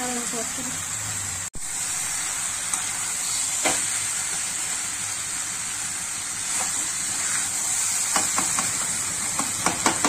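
Chicken pieces and potatoes with spices being stirred in a hot pan, a steady frying sizzle and hiss with scattered scraping clicks from the spoon, close and continuous, with no one talking.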